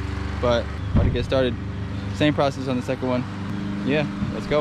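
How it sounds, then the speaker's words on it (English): A lawnmower drones steadily in the background beneath talk, a continuous low engine hum that holds throughout while someone speaks during a DIY van build. "Sorry about the lawnmower in the background"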